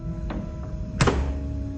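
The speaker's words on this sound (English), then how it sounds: "I heard the fridge door eventually shut." A refrigerator door thuds shut in a quiet room, a faint tap coming just before the main solid closing thump and a low steady hum continuing underneath.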